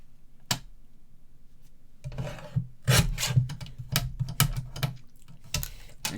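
A piece of card for a French countryside greeting card is trimmed down with a paper cutter, giving a run of close, dry scraping strokes and sharp clicks in an uneven rhythm, with no talking.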